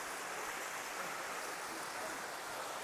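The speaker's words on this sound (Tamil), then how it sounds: "ஏதோ ஃபால்ஸ் ஒன்று ஓடுற மாதிரி இருக்குது" A waterfall runs near Yana cave, hidden behind dense trees, making a faint, steady rushing wash of water that continues evenly without pause.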